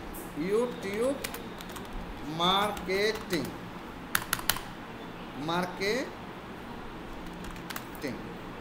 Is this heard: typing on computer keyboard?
yes